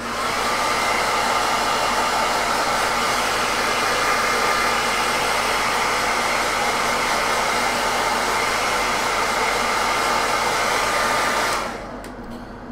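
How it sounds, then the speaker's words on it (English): A hair dryer blows steadily at close range, drying paint on a heavy all-metal Knight Armiger miniature, a loud constant broadband whoosh that runs unbroken and then drops to a softer hum as it is switched down near the end. "Hairdryer treatment again."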